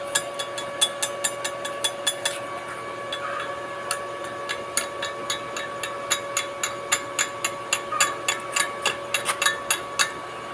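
A hammer strikes repeatedly on a broken bolt that has had a nut welded onto it, sharp metallic clanks in a steady rhythm that grows quicker and slightly louder toward the end, close by with no talking.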